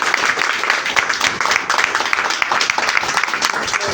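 An audience at an AWPL Topaz party claps for the teachers, giving dense, lively applause with quick uneven claps.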